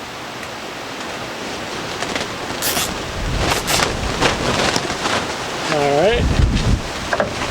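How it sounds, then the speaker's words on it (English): Strong gusts of wind from storm Ida sweeping past a cattle panel greenhouse outdoors, a loud, broad rushing that swells and builds, with someone speaking briefly in the middle. "Got another good gust of wind going through here from Ida."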